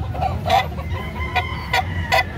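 Chickens clucking nearby in a rural yard, a series of short bright clucks and calls repeating every half second or so over a steady low background rumble, no voices.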